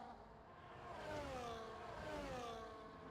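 Race cars in an F1 video game circle the Canadian Grand Prix track behind the safety car, a steady engine whine that rises and falls in pitch as they run at reduced pace, moderately loud, with no talk.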